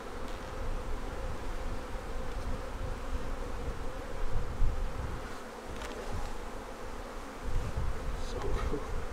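Honeybees in a hive crowded with a huge population produce a dense, continuous, close buzz that holds steady and loud throughout, with no talking.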